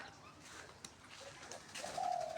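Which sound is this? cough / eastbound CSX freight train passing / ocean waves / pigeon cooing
pigeon cooing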